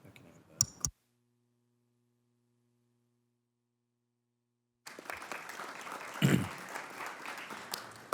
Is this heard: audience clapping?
yes